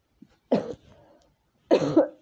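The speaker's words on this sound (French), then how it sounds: "Et ça y est, je recommence à tousser." Two short, rough coughs, close by, separated by a brief pause.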